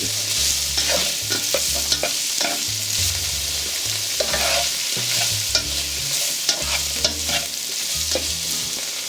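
Peppers, onions and celery sizzle steadily in a pan for pork fried rice, a loud continuous frying hiss broken by repeated scraping stirs, close up and with no talking.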